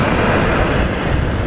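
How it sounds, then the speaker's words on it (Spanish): Mediterranean Sea waves washing onto the shore in the morning, a steady, fairly loud wash of surf with wind, continuous and unbroken with no voices. "y escuchando el sonido del mar."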